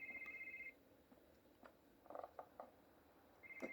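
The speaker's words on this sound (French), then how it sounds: "Quelqu'un téléphone en bas." A telephone rings downstairs inside a video game, with a short electronic ring repeating at the start and again at the end, fairly quiet against faint background game noises.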